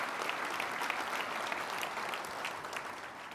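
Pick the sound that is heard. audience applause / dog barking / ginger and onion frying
audience applause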